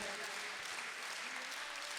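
At a Hindi poetry recital by Dr. Hariom Panwar, a crowd claps in an even, unbroken wash of applause, heard from a distance at modest volume, with no voice rising above it.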